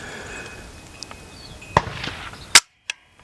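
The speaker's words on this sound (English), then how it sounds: "test the trigger on it, make sure it's clear" Dry trigger test on a Riley Defense RAK-47 AK-pattern rifle: a couple of crisp, close mechanical clicks and snaps of the hammer and action over a faint hiss of background noise.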